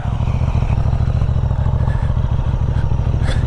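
A Benelli Tornado 550 motorcycle engine drones steadily and close while riding, a loud, even low pulsing with a faint whirring overtone throughout and no talking.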